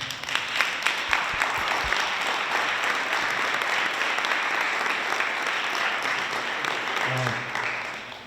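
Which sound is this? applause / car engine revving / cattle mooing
applause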